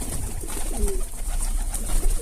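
Pigeons in a coop give a soft, low cooing call, brief and moderately close, over a steady background hiss and some rustling.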